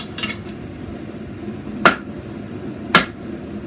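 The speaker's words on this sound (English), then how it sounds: "It's still a lot of hand hammer work because it's so wide." Two loud metallic hand hammer strikes on steel being forged into a sword ring out a second apart, sharp and close, with faint lighter taps earlier and a steady low hum behind.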